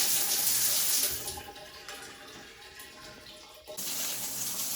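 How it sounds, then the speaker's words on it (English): Water sprays from a poorly running shower head that throws wild, uneven streams, giving a steady close hiss that dips partway through and then returns at full strength, with no voices. "Here's how bad that shower head runs."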